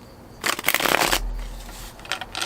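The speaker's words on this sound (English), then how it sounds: "So I'm shuffling my cards" A deck of tarot cards is shuffled close by outdoors at night in a quick riffling burst, then a softer second shuffle, with a quiet background.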